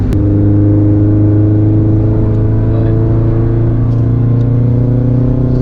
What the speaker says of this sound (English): The sounds, the blow-off valve.